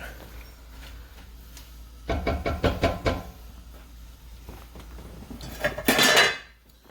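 Metal cookware clatters as a lid goes onto a pot of leeks simmering in butter for potato-leek soup, a quick run of clinks and knocks followed by a louder scrape and clank near the end.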